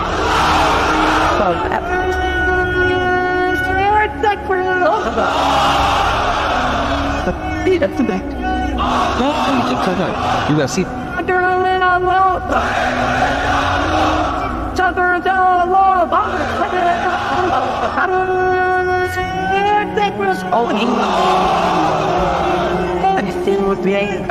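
Large crowd of unmarried men at a Bangladeshi religious gathering shouting the takbir in unison: repeated loud, chanted call-and-response roars in rhythmic waves, with many voices blending and echoing through a sound system.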